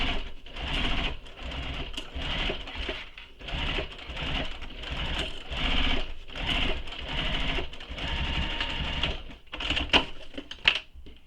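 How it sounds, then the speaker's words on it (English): A sewing machine stitches around the lining of a bowler bag in long, rapid bursts of mechanical chatter with short pauses between runs, close and fairly loud. "So now, onto the lining side, I'm going to stitch all the way around."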